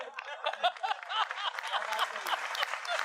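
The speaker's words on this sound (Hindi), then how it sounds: "अब भाजपा ने तालियां बजाई" An audience at a Hindi comic poetry gathering claps in a thin, continuous patter mixed with scattered chuckles and laughter.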